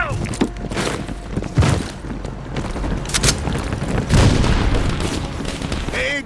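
An anti-aircraft gun fires in Call of Duty Black Ops Cold War, with loud bursts of heavy gunfire and deep booms overlapping throughout, alongside voices in the combat.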